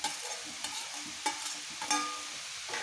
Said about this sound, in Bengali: এখন মাছগুলো দিয়ে নেব।